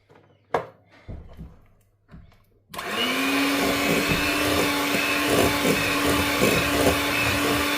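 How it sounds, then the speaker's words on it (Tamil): An electric mixer beats dates cake batter as condensed milk is added, starting abruptly after a few light clicks and knocks, then running as a steady, loud motor whir with a constant hum. "இப்போ நாங்கள் இதில் எடுத்து வச்சுக்கிற டின்பாலை கொஞ்சம் கொஞ்சமாக இதுக்குள்ள விட்டு அடித்து கொள்ளுவோம்."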